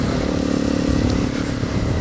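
Steady motorcycle engine drone while riding on a road trip from Cape Town toward Port, loud and close with continuous mechanical rumble throughout.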